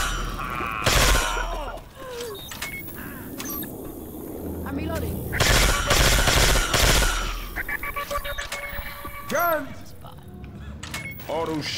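Video game gunfire comes in loud bursts of rapid shots, with quieter stretches of action between them, while several players keep talking throughout.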